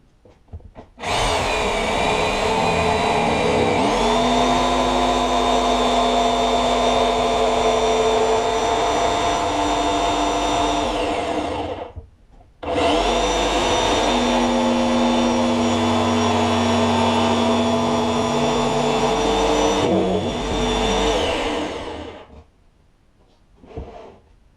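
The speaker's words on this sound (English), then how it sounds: "I just drilled a hole in that." Power drill boring a hole in build material for a Piper PA-14 Cub lower fuselage section, a loud sustained whine running about eleven seconds, a brief pause, then a second long run that winds down.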